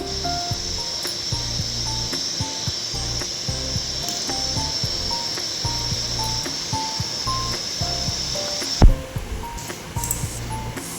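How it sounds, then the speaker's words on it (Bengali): Palm fruit fritters fry in oil over medium heat, giving a continuous hiss with soft bubbling crackle close by, then a sharp clatter near the end and a brief quieter stretch. "বড়াগুলোকে অল্প অল্প করে আঙুলের মাপে নিয়ে তেলের মধ্যে ভেজে নেব"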